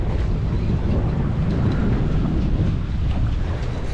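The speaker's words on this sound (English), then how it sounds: "It's blowing southerly, absolutely howling." Strong southerly wind roars continuously against the microphone while fishing, a dense, unbroken blustery rush with no pauses.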